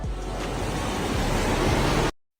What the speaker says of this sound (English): In another area, water burst from the street and flooded the road, damaging parked cars.